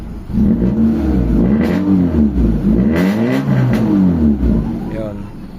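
A car engine that stalls when the gas pedal is released revs up and down repeatedly, close and loud, the pitch climbing and dropping in several surges before idling off.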